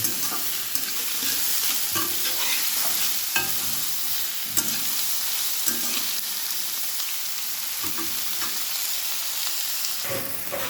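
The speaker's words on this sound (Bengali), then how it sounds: "পেঁয়াজটা হচ্ছে তাড়াতাড়ি হচ্ছে ভাজা ভাজা লাল হয়ে যাবে" Continuous loud sizzling of onions frying in a pan with rhythmic scraping as they are stirred every second or two, close up.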